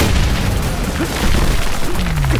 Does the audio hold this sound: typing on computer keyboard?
no